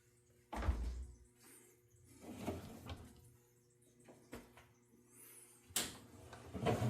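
Towels being pulled from a 1965 Wards Signature washer: a few irregular soft thumps, rustles and a door-like knock against a low background hum, mid-distance and fairly quiet.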